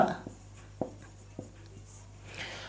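Chalk or marker on a classroom board writing a short word, a few sharp taps and brief strokes spaced apart over steady room hiss, quiet and close.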